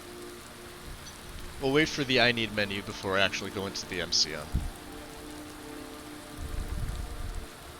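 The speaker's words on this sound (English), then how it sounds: "Oh, it is raining." Steady video game rain patters throughout while someone speaks over it; the rainfall stays constant and moderately loud beneath his voice.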